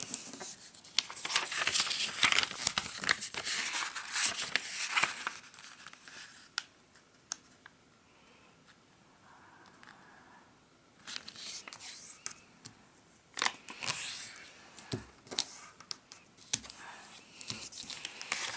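Square origami paper is folded and creased by hand, with crisp rustles and crinkles in bursts close to the microphone, a quieter stretch in the middle.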